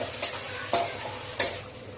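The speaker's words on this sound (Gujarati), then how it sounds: "પછી એની અંદર ટામેટાં, ડુંગળી ને લીલા મરચાં નાખવાના છે. મસ્ત આને સાંતળી દેવાના છે." Tomatoes, onions and green chillies sizzle in a hot pan while a spatula scrapes through them three times in quick succession, close up and without speech.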